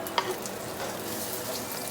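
Beef liver frying in hot oil for Nigerian fried rice gives a steady, close sizzle with one small stir or clatter near the start and no talking.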